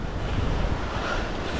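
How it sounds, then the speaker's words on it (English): Strong gusting wind roars across the microphone during a bike ride on a road, a dense, steady rushing buffet with low rumbling and no voices. "This wind just came out of nowhere."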